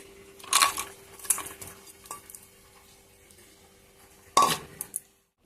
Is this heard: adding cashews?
yes